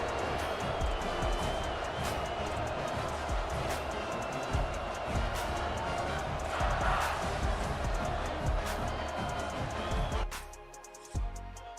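Stadium crowd in the EA Sports College Football video game roaring in a loud, continuous wall of cheering that drops away sharply near the end.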